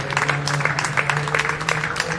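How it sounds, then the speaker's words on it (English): Crowd at a T20 Premier Cricket match between University and Rockingham-Mandurah applauding batsman Will Bazisto, steady and fairly close clapping from many hands held over a low hum. "The applause is for Will Bazisto."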